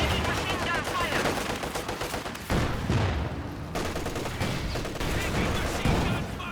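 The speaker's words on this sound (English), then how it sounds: "Taking machine gun fire!" Sustained machine gun fire rattles almost nonstop through a Company of Heroes 2 battle, dense rapid bursts overlapping heavier gunshots and a brief break near the middle, loud and close throughout.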